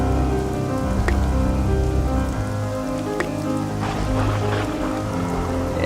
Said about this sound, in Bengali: এখনো তো বৃষ্টিটা থামলো না।